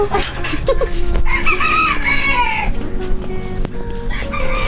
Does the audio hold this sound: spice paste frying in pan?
no